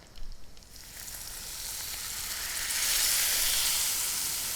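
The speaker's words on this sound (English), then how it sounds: "the Szechuan wine is just going to deglaze the pan" Szechuan wine hitting a hot pan to deglaze it, bursting into a bright rising sizzle and steamy hiss that swells and holds steadily, close and fairly loud, with no talking.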